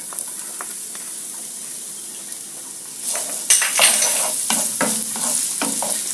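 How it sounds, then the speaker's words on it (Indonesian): Garlic fries in a small amount of oil for a beef teriyaki stir-fry. A steady close sizzle grows louder partway through, and a utensil scrapes and stirs the pan in repeated strokes. "Kita goreng ini bawang putihnya."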